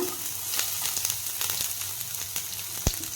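Cumin, ginger, green chilli and garlic fry in hot oil for an egg tadka, giving a steady close sizzle with scattered crackles and one sharp pop near the end.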